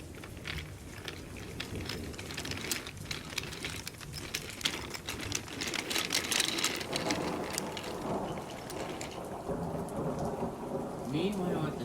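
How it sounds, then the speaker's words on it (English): Heavy rain pours steadily while thunder rumbles and cracks through a stormy scene, a dense thunderstorm sound effect that swells louder midway and carries on without any talking. "This storm is getting worse and worse as the day progresses."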